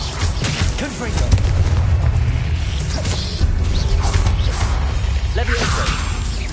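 The Confringo blasting spell in a Harry Potter video game goes off as heavy booms and crashes with whooshing bursts, buried in dense, loud, continuous game noise.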